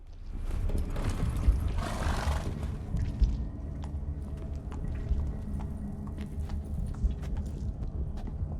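Horse in The Witcher 3, a loud snorting whinny rising in the first seconds, then soft scattered hoof clops and rustling over a low ambient rumble.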